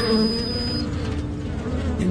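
A penetrating insect-like drone in a Spanish radio drama about UFOs, steady and loud throughout with a thin high whine over it, and no voices.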